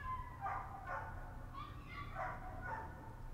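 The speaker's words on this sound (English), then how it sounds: "the neighbor's dog just ate the smaller dog" Neighbor's dog barking and yipping at a distance, a handful of faint, high-pitched yelps spread across a few seconds over a low steady background hum.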